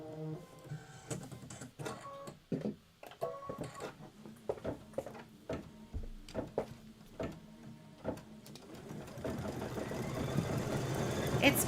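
An embroidery machine stitches a leaf fill in celery-green thread with an uneven, chattering mechanical rhythm of clacks and whirs, growing into a denser steady hum toward the end, with people talking faintly alongside.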